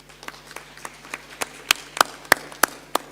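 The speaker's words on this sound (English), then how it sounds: "Could you clap for them?" Sparse, scattered hand claps from a forum audience thanking a panel, a handful of distinct sharp claps in an uneven rhythm, growing slightly louder toward the end.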